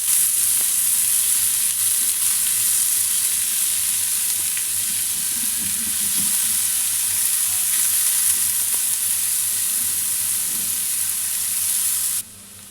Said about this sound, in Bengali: পেঁয়াজ কুচিটা সামান্য তেলে নেড়ে নেব এভাবে।